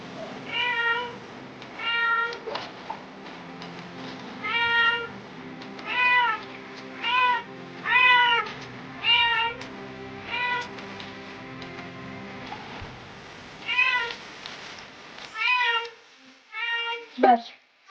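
A pet cat meows loudly and repeatedly while being bathed in warm water, a series of drawn-out, complaining cries in close succession with pauses between them.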